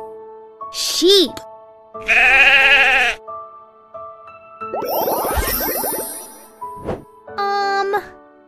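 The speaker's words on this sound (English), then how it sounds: "Sheep." A sheep bleats in a few wavering cries among other animal calls and chimes from a baby's first-words learning game, loud and close, with a voice naming animals in between.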